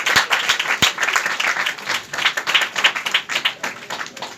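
A church congregation claps steadily at a Sunday service, dense continuous applause filling the room at moderate volume.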